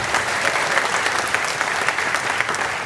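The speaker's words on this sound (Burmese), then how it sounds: "လက်ခုပ်တီးပါဘုရားသခင်" Church congregation at a Sunday service clapping for God, a steady, energetic round of many hands clapping close by, with no talk over it.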